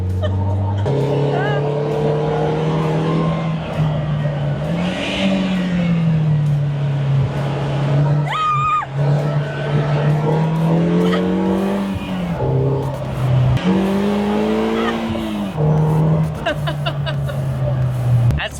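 A Polaris Slingshot R launches hard, its engine note climbing steadily and loud through the gears with brief dips at each shift, while people talk over the roar.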